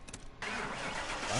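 A car engine starts in the video game Mechanic Simulator 2021. A brief crank turns over and catches into a steady, close mechanical roar that rises slightly at the end.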